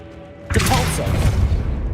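Depulso, a repelling spell in Hogwarts Legacy, strikes with a sudden heavy boom after a quiet half-second, then leaves a loud rumbling wash that lingers to the end.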